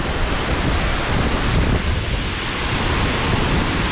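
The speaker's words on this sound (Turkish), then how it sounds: "Şu suyun akıntısına baksana abi kayanın içinden nasıl çıkabiliyor bu şekilde ya" Water gushing out of rock at Küp waterfall, a dense, loud, continuous roar of rushing flow filling the scene with no talk.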